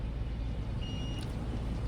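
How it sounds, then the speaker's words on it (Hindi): A multimeter on continuity mode gives a single short, thin beep while probing SMD capacitors on a Nissan ECU board, heard over a steady low background hum. "तो हमारे पास वहाँ पे एक कैपेसिटर के साथ बीप आ रहा है"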